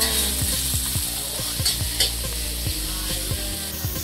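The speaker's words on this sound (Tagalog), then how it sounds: "unahin natin yung taba, prito" Pork fat sizzles steadily in a hot pan while a utensil repeatedly knocks and scrapes the bottom in an uneven stirring rhythm.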